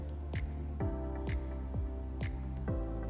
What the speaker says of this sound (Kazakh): Енді соны жақсылап тұрып араластырып қоям